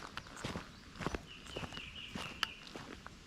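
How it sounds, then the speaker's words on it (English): Soft crunching footsteps on a loose surface, steady walking pace, with a thin high whistle-like tone drifting through the middle. "Birds, trees, and then gravel footsteps, depending on where you're at."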